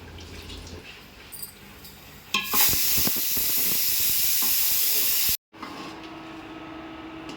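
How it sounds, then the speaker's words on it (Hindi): Spices fry with a splash of water in a pan on an induction cooktop, a loud steady hiss and sizzle that bursts on, runs for several seconds, then cuts off briefly before a quieter sizzle resumes. "तो मसालों को भूनने के लिए ना इनको इंडक्शन पे चढ़ा दिया है।"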